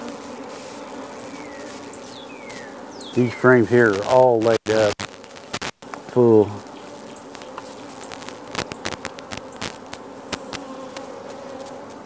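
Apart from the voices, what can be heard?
honey bees being shaken into a starter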